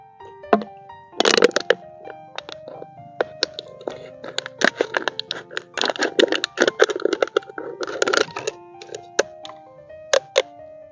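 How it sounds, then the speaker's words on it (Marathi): A half-litre plastic bottle is cut apart for a farm spray pump, making close, sharp crackling and crunching clicks in irregular bursts against quiet. "हीच बॉटल आपण कापून मित्रांनो वापरणार आहे"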